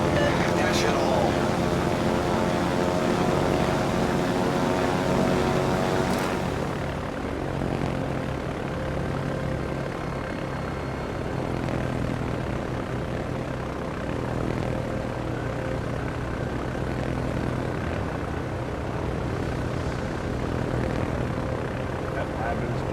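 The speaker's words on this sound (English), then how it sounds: "While y'all are trying to shoot those airplanes." Propeller aircraft drone overhead in a World of Warships naval battle, a steady engine hum that swells early then settles into a continuous broadband roar under faint game sounds, with a voice talking over it.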